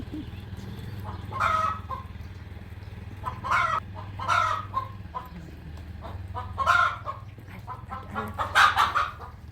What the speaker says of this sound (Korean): 여기 닭이 소리 지러요.